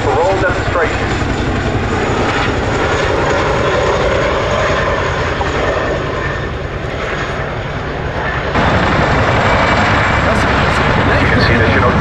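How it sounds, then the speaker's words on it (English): Chinook helicopter flying a 2024 display demonstration with a battlefield gun slung beneath it, a loud continuous rotor and engine roar filling the air while an announcer talks over it. "please turn your eyes to the sky for the 2024 Chinook Parole demonstration"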